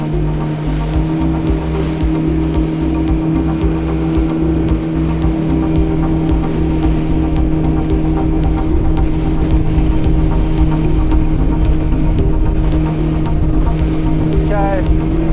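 Highfield 560 Sport boat cruising at 4400 RPM and 20 knots on open water, a loud steady outboard engine drone with rushing wind and water noise throughout.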